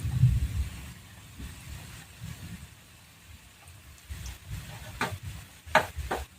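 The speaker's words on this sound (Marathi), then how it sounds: "दोन मिनटं छान अशी तळून घ्यायची" Lacy Maharashtrian bhaji fritters fry in hot oil, giving a faint, soft sizzle with occasional stirring clicks and taps, and no talking.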